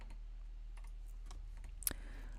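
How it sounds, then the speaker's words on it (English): A computer keyboard being typed on to enter a command, a few faint scattered key clicks with one sharper tap near the end, close and quiet without talk. "we're going to confirm that we can connect by typing in this thing. So I will type that here."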